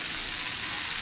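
Close, steady sizzle of pre-fried moong dal hitting hot oil in a kadai, a continuous crackling hiss with no voices.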